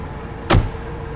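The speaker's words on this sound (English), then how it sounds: "You see how nice the doors close?" A single solid thunk as the door of a 1963 Corvette coupe swings shut, short and close, with quiet surroundings before and after.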